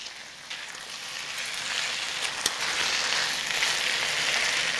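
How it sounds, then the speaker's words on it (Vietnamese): Chicken wings sizzle in fish sauce in a pan as they are stirred, a steady bright frying hiss that grows slightly louder partway through, with one sharp clink of a utensil. "Đảo đều tay cho đến khi cánh gà áo đều lớp nước mắm vàng óng như thế này ha"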